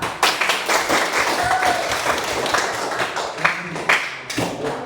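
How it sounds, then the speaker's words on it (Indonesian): A group of schoolchildren in a classroom breaks into loud, dense hand clapping, uneven and irregular with scattered sharper slaps, while voices murmur underneath. "Oke, tepuk tangan."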